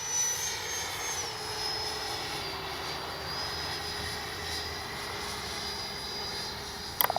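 An FMS Integral 80mm RC jet making a slow, dirty pass with flaps, giving a steady distant turbine whine and rushing roar that holds evenly throughout, with a few sharp clicks at the very end.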